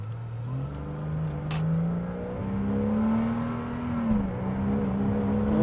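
A Porsche Cayman S engine revs up with a rising, throaty tone, climbing and holding pitch as the car accelerates, loud and close.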